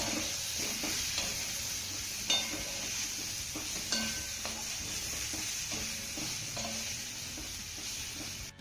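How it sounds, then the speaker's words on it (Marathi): Vadis being sautéed in a hot tempering of oil, a continuous soft sizzle with occasional scraping knocks of a spoon stirring the pan, close-up and fairly quiet, no talking. "वड्या आपल्याला फोडणीमध्ये एक मिनिटभर चांगल्या परतून घ्यायच्या"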